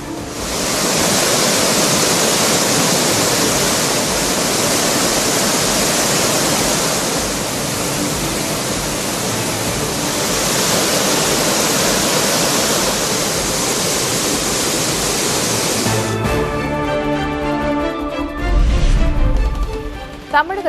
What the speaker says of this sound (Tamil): திருப்பரப்பு அருவியில் 4வது நாளாக ஆர்ப்பரிக்கும் வெள்ளம்